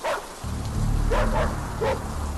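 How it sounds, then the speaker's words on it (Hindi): Dogs in a pack in a dark garden near a swimming pool give three separate barks, heard as a sound effect over a constant low hum and a soft rain-like hiss. "सारे कुत्ते एक जगह झुंड में खड़े हैं, एकदम तैनात, और स्विमिंग पूल के पीछे अंधेरे कोने की तरफ देखकर गुर्रा रहे"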